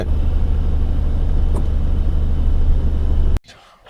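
A Lexus RX350 engine running on petrol in a car fitted to switch to gas, with a steady, loud, close low drone that cuts off abruptly just before the end.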